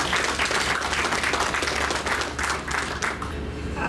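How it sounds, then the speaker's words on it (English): A gathered audience at a Street Providence sponsors' celebration gives a warm round of applause, a continuous dense patter of many hands clapping nearby that tapers slightly toward the end. "let us welcome her with a big round of applause as well"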